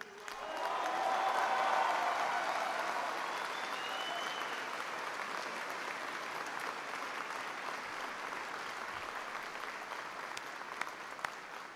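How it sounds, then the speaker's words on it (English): A large crowd at a Camp Pendleton military base event applauds military families, swelling quickly into loud, sustained clapping with a few cheers mixed in, then holding steady until the end. "I want everyone to give a big round of applause to the amazing families who serve along with you."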